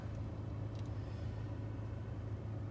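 A Volkswagen Golf Match engine idles steadily just after start-up, a low, even rumble heard from inside the car with no talking.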